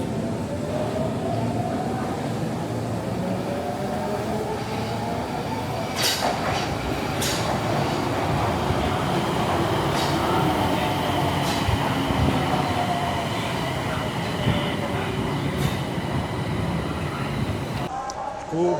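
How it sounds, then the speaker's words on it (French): A subway train in Japan rumbles and screeches steadily as it pulls into a station, with metallic squeals and clatter throughout, ending in a sudden shift. "il y a le métro qui arrive"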